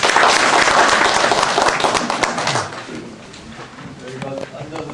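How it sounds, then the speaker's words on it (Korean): Audience applause greeting a candidate at a pre-election debate forum for the Uiwang-Gwacheon constituency, loud dense clapping for about two and a half seconds that thins and fades, with murmuring voices underneath toward the end. "박수로 모시겠습니다."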